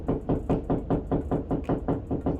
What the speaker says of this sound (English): you could use the old knock method